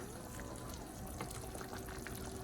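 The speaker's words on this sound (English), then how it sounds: "Pour some from the kettle in there now." Water poured from a kettle into a cooking pot of turkey neck for curry, a faint steady splashing stream under quiet kitchen background, no voices.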